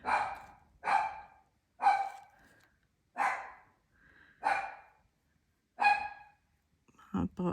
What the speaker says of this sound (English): Our barking dog.